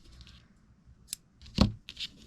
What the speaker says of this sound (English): you're going to go ahead and cut a tail